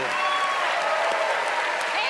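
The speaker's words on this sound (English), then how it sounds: "Big applause for her." Studio audience at a televised magic show applauds steadily, a bright, crowded clapping close to the stage, with a faint voice and whoops mixed underneath.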